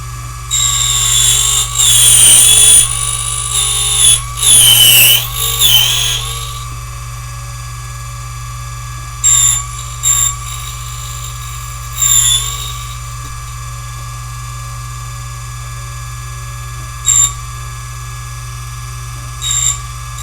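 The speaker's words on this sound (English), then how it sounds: "you're going to watch me trace this key, and this cutter wheel is going to cut" A key duplicator machine traces a key while its cutter wheel grinds a copy, with loud whining bursts of cutting in the first few seconds, then shorter, quieter intermittent passes over a steady motor hum.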